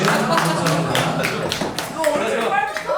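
Applause from a live-streamed audience, a dense run of claps with some talk mixed in, steady and moderately loud for the whole stretch.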